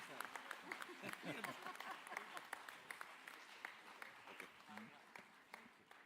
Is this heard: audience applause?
yes